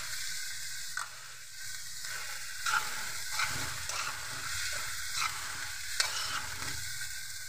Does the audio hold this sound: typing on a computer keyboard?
no